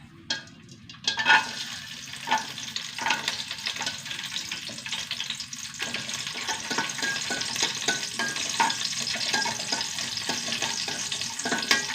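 Cashew nuts fry in ghee with a continuous crackling sizzle that builds after a quieter opening, joined by steady stirring and light scraping throughout.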